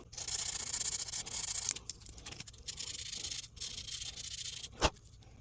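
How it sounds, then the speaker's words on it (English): A guitar stud is rubbed with 400 grit sandpaper in steady back-and-forth strokes, a close, soft hissing scrape in several bursts with brief pauses and one sharp knock near the end. "It's like the more you sand it, the darker it gets."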